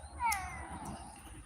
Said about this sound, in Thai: แมวมากวน